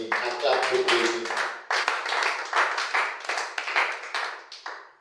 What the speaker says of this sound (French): Est-ce que tu peux acclamer pour Néhémie?